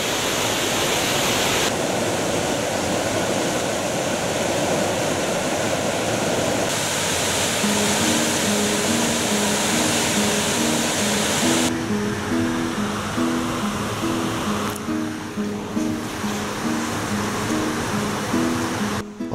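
The River Manifold runs beside a footpath in the Peak District, giving a loud, continuous broadband rush of flowing water throughout. A steady mechanical hum joins partway through.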